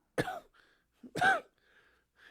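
Two short, rough coughs or throat-clearing bursts about a second apart, close and fairly quiet, with soft breathy pauses between.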